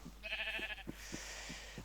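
Sheep bleating in the game Minecraft: one clear, close bleat followed by a second, breathier call, set over faint rhythmic thumps.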